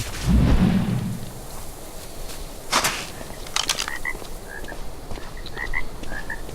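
Frogs in ARK Survival croak in a string of short, repeated calls against outdoor ambience, following a deep rumble at the start and a few sharp clicks.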